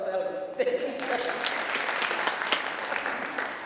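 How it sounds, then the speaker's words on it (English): A seminar audience of teachers at a college of education student support event breaks into sustained applause, a dense, even wash of clapping that fills the room from start to finish, with a voice audible at the start. "Colleagues, let's applaud ourselves, the teachers."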